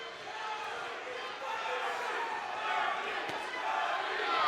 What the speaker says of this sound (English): Crowd cheers begin to go on.